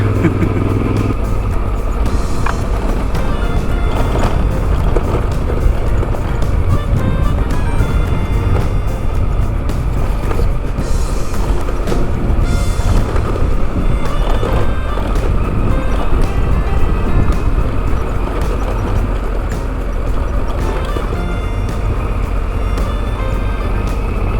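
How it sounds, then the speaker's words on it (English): An adventure motorcycle crosses water on an off-road Northern California backcountry route, its engine a loud, continuous drone mixed with splashing and wind buffeting throughout. "Water crossing."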